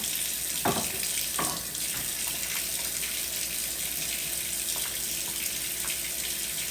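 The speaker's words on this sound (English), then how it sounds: "I turn the water on hot and I squirt in some Dawn." Hot tap water runs steadily into a kitchen sink as Dawn dish detergent is squirted in, making a close, even rushing hiss broken by a few brief clinks and splashes.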